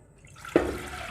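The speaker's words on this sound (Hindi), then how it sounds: "हाफ लीटर पानी" Half a litre of water poured into a pan to start the sugar syrup for gulab jamun, a single soft splash beginning midway and running on as a steady close pour.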